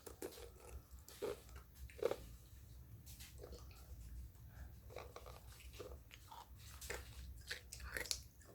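Close, quiet crunching and chewing of hard jewel jelly candy with a jelly centre, with irregular crisp bites over a low background hum.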